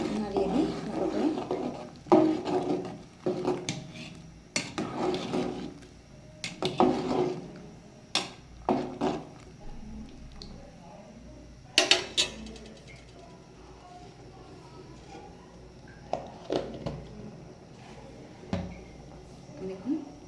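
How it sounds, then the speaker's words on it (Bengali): Stirring vegetarian sweet potato khichuri in a pot with a spoon, giving repeated scraping and clanking strokes at an uneven rhythm, with quiet bubbling between them and a voice talking at times. "এখন এটা হতে লাগুক, নাড়িয়ে দিই ভালো করে।"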